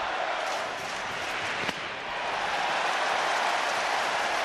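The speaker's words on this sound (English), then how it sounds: "trying to muffle some of the noise coming from this suddenly energized crowd" A suddenly energized baseball stadium crowd during a Diamondbacks–Dodgers playoff game roars in a steady, loud wash of cheering and applause throughout.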